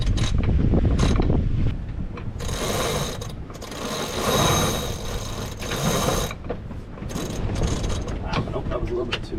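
Code zero front sail being threaded on a sailboat: loud rustling and flapping sailcloth with mechanical creaks and ratcheting clicks, steady throughout under wind noise on the microphone.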